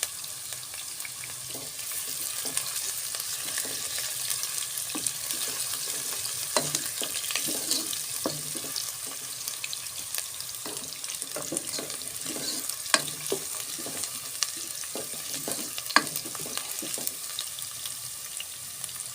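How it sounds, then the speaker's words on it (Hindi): Onions fry for aloo saag in a pan, a steady close sizzle broken by frequent sharp clicks and scrapes of stirring. "मैंने अनियन डाल दिए"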